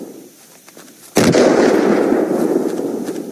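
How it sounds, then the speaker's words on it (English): A light machine gun fires in the video game Unturned, a sudden loud burst that becomes a sustained, dense roar of automatic fire after a quiet start. "This is the heaviest gun I know. It's the light machine gun."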